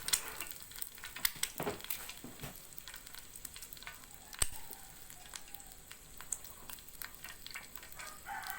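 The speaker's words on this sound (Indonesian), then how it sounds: "Jadi saya mau pakai goreng telur, tapi minyaknya saya sengaja kasih sedikit saja" An egg frying in a new, inexpensive pan with only a little oil, giving a quiet, steady sizzle with scattered sharp pops and crackles, no talking.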